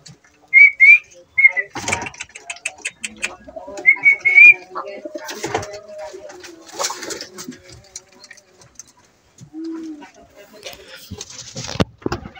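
Pet pigeons brooding eggs coo in a few short bursts near the start and middle, close by, between stretches of scattered handling noise and a voice speaking.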